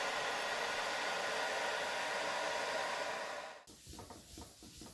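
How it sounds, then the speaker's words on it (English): A hair dryer blows a steady loud rush of air onto a waxed end-grain wooden cutting board, then cuts off abruptly, leaving quiet handling and rustling sounds. "I borrow my wife's hair dryer without asking"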